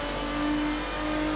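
Ferrari racing engine in the Assetto Corsa racing game, revving hard and steady as the car runs down the Craner Curves, a loud continuous drone with a sustained high tone throughout.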